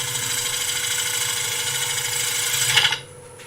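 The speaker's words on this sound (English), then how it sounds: "Now I'm taking a much finer cut because this is going to be my finishing cut" A wood lathe takes a fine finishing cut on a turned bowl with relief carving, giving a steady broadband scraping whir with a faint motor hum. It holds evenly, swells briefly, then stops abruptly near the end.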